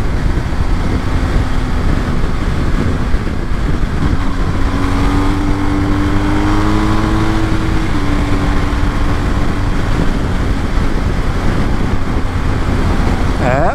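Motorcycles on a group ride, among them adventure and road bikes such as a BMW R 1250 GS, Triumph Tiger 1200 and Honda CB 650R, rumble past, one engine note rising and falling mid-way over a constant roar of engines and wind.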